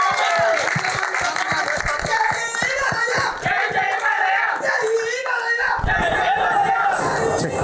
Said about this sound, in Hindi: कैलाश सर के लिए एक बार जोरदार तालियां हो जाएं